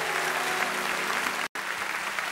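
A studio audience on the Turkish talk show Beyaz Show breaks into steady, dense applause that carries on throughout, with a brief cut near the middle.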